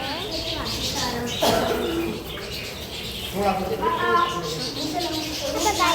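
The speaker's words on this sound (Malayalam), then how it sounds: "ഇവിടെ കിളികളുണ്ട് കുറേ" A busy mix of birds cooing and chirping nearby at a mini zoo in Al Khobar, Saudi Arabia, with wing flaps and a person talking over the calls.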